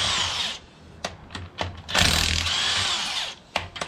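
A DeWalt power tool buzzes in short repeated bursts with ratcheting clicks while a Ford 6.2L V8 engine is torn down, some bursts brief and one longer run in the middle.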